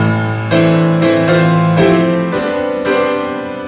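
A motif played on piano, a series of five or six loud struck chords or notes, each left to ring out under the next.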